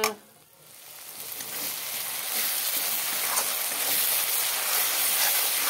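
Spices fry in hot oil in a pan for a Bengali fish curry, giving a continuous bright sizzle and hiss that rises after a brief quieter moment and carries on steadily without talk.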